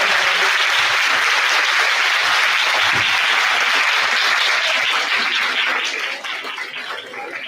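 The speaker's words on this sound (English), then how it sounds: "the round of applause for transformative learning" A large audience at a national nursing conference claps together in sustained, dense applause that holds steady and then thins out toward the end.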